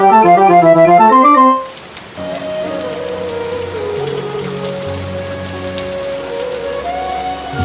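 Heavy rain pours down in a steady, dense hiss after a short burst of melodic tones at the start.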